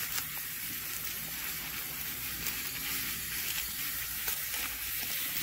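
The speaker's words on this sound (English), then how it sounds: "Rinse it off a little bit." Water runs and splashes steadily over a rusty chain being rinsed after a vinegar soak, a continuous hissing spray at moderate distance with no talking.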